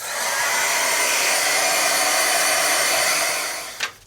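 A hair dryer blows a steady, loud whooshing roar over a freshly painted art journal page, running continuously up close before it clicks off at the end.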